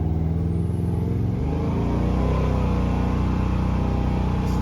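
A truck engine runs steadily while driving into town after an oil change and new spark plugs, a continuous low rumble that climbs in pitch midway as it accelerates, close and fairly loud with no talk.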